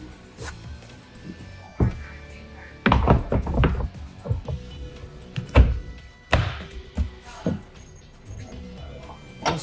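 On a 2021 Sea-Doo Spark Trixx personal watercraft, the seat is popped up and unlocked, giving a series of hollow plastic thunks and knocks, some sharp and close, spread irregularly with a voice talking in between.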